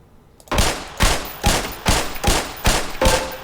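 Seven gunshots are fired at targets on a shooting range in the Black Mesa video game, each a sharp, loud crack with a short decay, spaced evenly about half a second apart.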